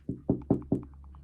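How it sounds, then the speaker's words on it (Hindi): Four evenly spaced knocks on a door, close and fairly loud, each a dull low thud with a short decay, followed by quiet room tone. "हर दरवाजे में से उन्हें खटखटाने की आवाज आई"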